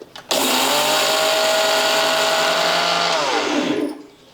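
A mixer grinder with its lid closed powders a cup of sugar, its motor kicking in abruptly into a loud, steady high-pitched whir that holds for about three and a half seconds before winding down, with no talking.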